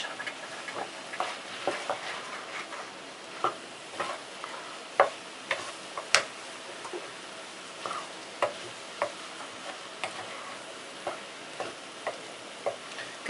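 Chicken, onion, courgette, peas, carrot and egg fry in a pan for Korean bokkeumbap, a spatula stirring and tapping in irregular clicks over a steady soft sizzle, close and moderately quiet.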